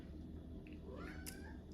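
A house cat meows close by, a couple of short meows over a steady low background hum in an indoor room, with no talk during the cries.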